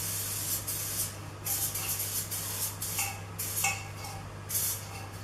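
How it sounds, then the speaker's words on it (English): Cooking oil sprays from a can onto a cake tin in short, sharp hissing bursts, about five in quick succession, close up. "Just want to lightly spray that with cooking oil."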